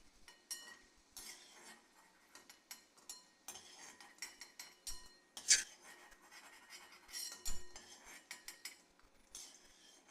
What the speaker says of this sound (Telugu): బాగా వేగిపోయాయి, గిన్నెలోకి తీసేస్తున్నా